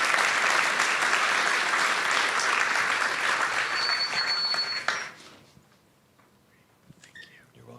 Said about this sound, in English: All right, round of applause for Jeff.